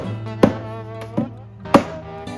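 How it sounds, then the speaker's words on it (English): Wooden spindles hammered into a pallet-wood chair: three sharp, separate knocks spaced under a second apart over a steady tonal hum. "He is now hammering the spindles to the chair."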